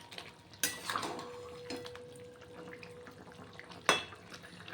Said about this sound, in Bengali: এবার নাড়াচাড়া করে নিচ্ছি।